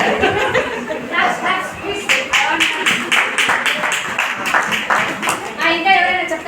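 Audience clapping for two women at a Good Friday church gathering, a burst of scattered hand claps with some laughter and talking mixed in throughout.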